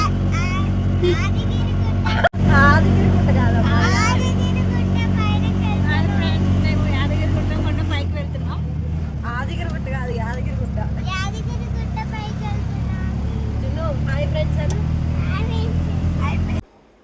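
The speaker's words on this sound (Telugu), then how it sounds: "బస్సెస్ కోసం జనాలు ఫుల్ ఉన్నారని మేము ఆటోలో వెళ్తున్నాం" An auto rickshaw climbs the road up to a hill temple, its engine droning steadily inside the cabin under almost constant talk. A sharp knock comes early on, and the noise falls away near the end.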